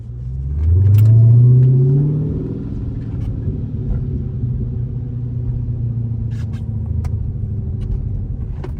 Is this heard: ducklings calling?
no